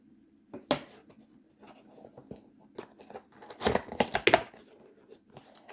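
Box cutter slicing through the packaging of a 2020 Lenovo ThinkPad E15 Gen 2 laptop box, giving close, scratchy tearing strokes in uneven bursts, loudest near the end.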